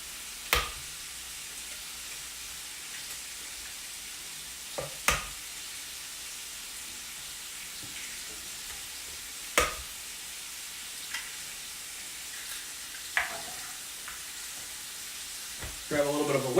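Breakfast casserole ingredients being mixed in a bowl: sparse, sharp clinks and scrapes of a utensil spaced several seconds apart over a quiet hissy background, with a busier burst of stirring at the end.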